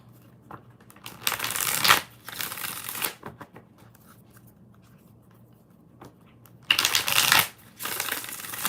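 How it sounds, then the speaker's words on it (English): Tarot cards are shuffled at close range in a few separate bursts of rapid riffling and flapping, with quiet pauses between them and no talking. "2 more shuffles"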